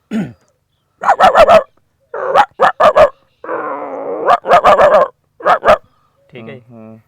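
A man mimics a dog with loud, close bursts of quick barks in clusters, broken by a drawn-out whining howl and a final low growl.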